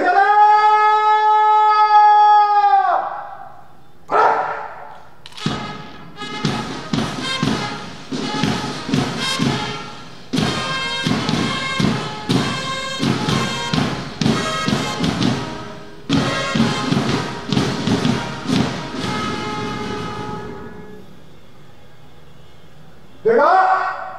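Rifles thump and clatter during a present-arms salute at a Pancasila Sanctity Day flag ceremony. A loud shouted command comes first, then a long run of sharp, repeated knocks and thuds, and another voice at the end.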